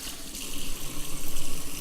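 Kale leaves are rinsed under a running kitchen tap, a continuous close hiss of flowing water with slight splashing fluctuations as the leaves shift in the stream, no voices.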